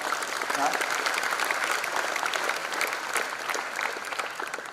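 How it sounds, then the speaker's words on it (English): An audience applauds at a freshers' induction programme, a dense, steady wash of clapping hands that continues throughout without breaks. "Let's have a big round of applause to them as well."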